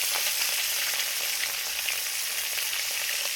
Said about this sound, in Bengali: আমি প্রথমে অল্প অল্প মাছ দিয়ে ভেজে নেব